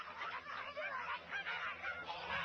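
Honking, squawking cartoon bird calls from the Angry Birds video game, a busy, noisy stretch of chatter at moderate level with no speech.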